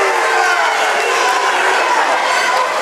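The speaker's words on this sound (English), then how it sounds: "And the Hazard crowd is not liking that call. We could hear that all the way up here." A high school basketball crowd at a regional tournament roars in steady protest against a referee's foul call, a dense sustained wall of voices that stays loud and unbroken throughout.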